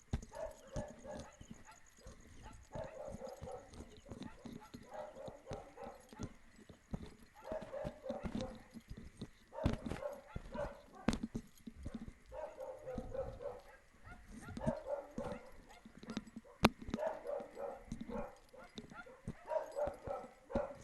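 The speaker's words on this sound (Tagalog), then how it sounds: "Ingay na naman ang mga aso." Dogs bark in repeated bursts at a moderate distance, with yips between, over outdoor background noise and occasional thumps.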